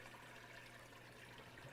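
Mint water ice mix pours steadily from a machine spout into a bucket, a soft, continuous liquid rush at low level with no voices.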